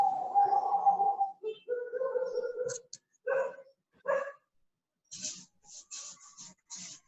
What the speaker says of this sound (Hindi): सर वो कुत्ते नीचे भौंक रहे हैं ना,